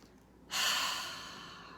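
One long, deep breath drawn in close to the mic, starting abruptly with a loud airy rush and slowly fading as it continues, with no talking.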